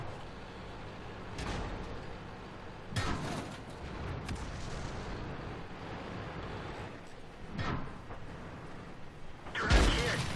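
Tank cannon shots in World of Tanks on the Himmelsdorf map, several heavy booming blasts spaced a few seconds apart over a low rumbling battle background.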